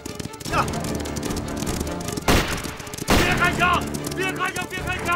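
Gunfire in a war drama set among bandits and soldiers: sharp shots burst out around the two- and three-second marks over a dense, loud background of music and clatter, with shouting voices.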